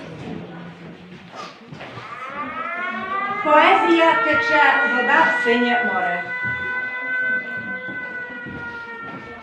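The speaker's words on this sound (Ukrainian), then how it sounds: "Увага! Повітряна тривога. Пройдіть найближче укриття." A wailing air raid siren with rising and falling pitch sounds over a man's spoken poetry at a school Shevchenko celebration, then a voice announcement in Ukrainian talks over it.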